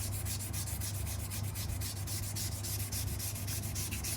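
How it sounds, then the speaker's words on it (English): Steel of a single bevel knife scrapes back and forth on a sharpening stone in fast, even rhythmic strokes while the Ura side is concave-ground, close and continuous with no talk. "This is how you remove steel on the Ura side of a single bevel knife."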